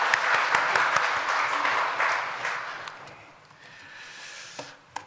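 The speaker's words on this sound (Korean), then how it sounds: "하나님 강한 박수 올려드리겠습니다" A church congregation applauds during a Sunday worship service, a dense roomful of clapping that swells, then gradually fades and thins toward the end.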